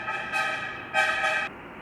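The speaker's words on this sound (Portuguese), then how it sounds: "buzinando aqui, justamente na hora que eu faço o vídeo" A passing car on a city street honks its horn in two short toots, a bright, fairly loud blare heard alone with no talking.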